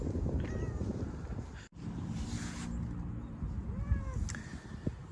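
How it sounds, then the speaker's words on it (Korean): A stray cat meows repeatedly at a Samsung semiconductor construction site in Pyeongtaek, with several short meows over wind and outdoor background noise. "여기 보시면은 계속 저를 따라다니는 바람에 제가 이렇게 올라오네요, 길고양이가."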